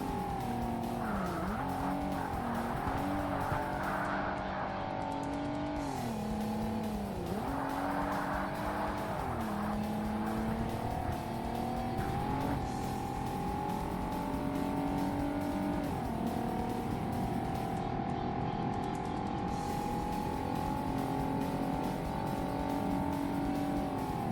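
A race car engine roars steadily throughout, revving up and down between gear shifts with a constant high-pitched whine, loud and continuous with no talking.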